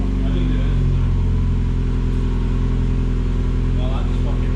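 The engine of a Mazda MX5 drones loud and steady close by as the throttle is flipped, a constant low rumble with little audible rise in revs, while a voice talks over it.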